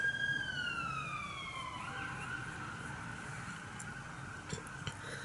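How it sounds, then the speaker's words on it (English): A wailing emergency vehicle siren sweeps downward in pitch and then holds a steady tone, loud and fairly near over a constant rumble of city traffic, with no one speaking. "So if anyone's wondering why there's so many sirens in my video"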